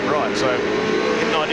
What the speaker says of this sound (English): Speed line on board Mark Scaife's Commodore.